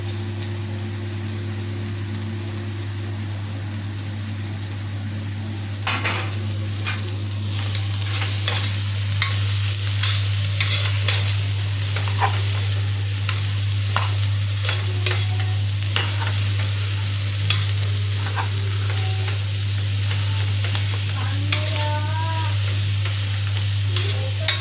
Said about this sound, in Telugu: మంచిగా మొత్తం నూనెలో ఫ్రై అయ్యేదాకా కాపకోసారి కలుపుకుంటా